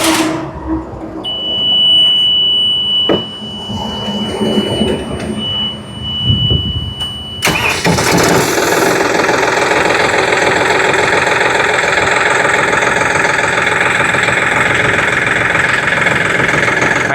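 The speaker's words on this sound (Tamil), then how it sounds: "இந்த இன்ஜினை வந்து ஸ்டார்ட் பண்ணி காமிக்கிறேங்க. ஜாண்டீரோட இன்ஜின் சவுண்டு எப்படி இருக்குன்னு பாருங்கள்" A John Deere 5210 50 HP 2WD tractor diesel engine cranks and catches, then settles into a loud, steady idle around 750 rpm with a continuous low rumble; a faint electronic tone is heard beforehand.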